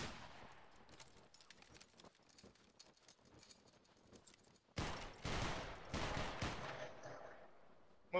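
A musket volley from a formed line of infantry in Battlegrounds 3 erupts as a dense crackling burst after quiet scattered shots, loud and close, trailing off into distant popping and rumble.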